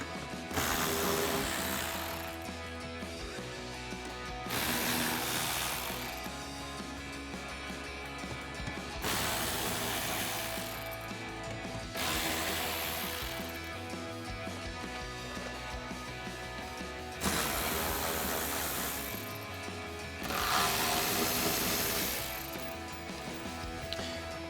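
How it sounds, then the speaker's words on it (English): A ratchet driving an 8mm socket loosens fender liner bolts on a RAM 2500 pickup, its clicking coming in repeated bursts of a few seconds each over a steady, dense background. "So we'll grab our 8mm socket and our ratchet and go ahead and get these fender liner bolts"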